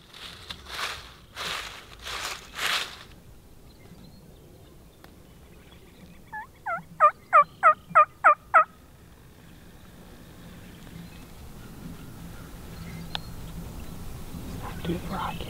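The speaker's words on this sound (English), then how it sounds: "they had a nice tom working his way along the field edge" Wild turkey tom gobbling along a field edge, a quick rattling gobble heard at moderate distance, preceded by a few soft calls; hushed talk follows the gobble.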